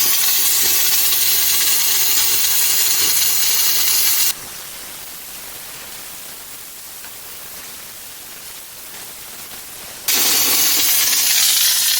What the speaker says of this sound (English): So quite a lot of steam. I'm gonna change it to setting 6.